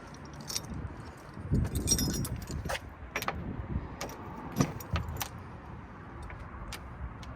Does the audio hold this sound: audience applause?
no